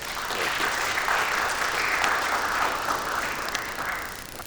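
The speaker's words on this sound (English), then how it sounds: "please, another round of applause" A seated audience at a UNESCO hydrology program anniversary gives a sustained round of applause, steady and full, fading slightly at the end.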